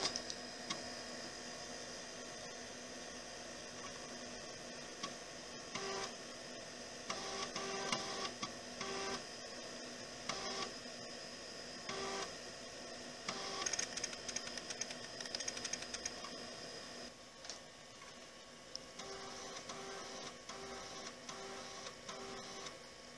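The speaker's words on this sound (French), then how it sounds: "Écoutez le disque dur, on dirait quelqu'un qui fait de la claquette." An old hard disk drive in a 386SX computer clicks and chatters in quick irregular bursts while formatting, over a steady electronic hum, close and fairly quiet.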